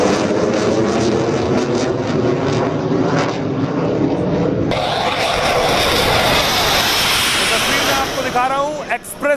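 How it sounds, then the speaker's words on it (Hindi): A Rafale fighter jet lands on an Indian expressway with a loud, sustained jet roar that shifts midway, partly under a voice speaking. "आप देख रहे हैं रफाल विमान उतरा था"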